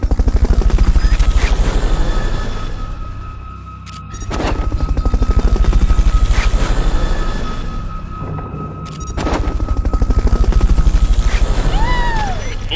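Helicopter flying overhead in Metal Gear Solid: Peace Walker, a loud continuous rotor chop that swells and fades in waves, with a few sharp bangs cutting through and no talking.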